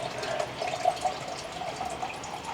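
Sludgy water, mostly water and silt buildup, drains from a boat engine in a steady close trickle with gurgling splashes, no talk over it.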